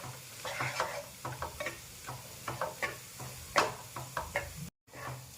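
Spice masala being stirred in a pan for kaju curry, a spoon scraping and knocking in short irregular strokes over a faint sizzle, close and fairly loud with no voice.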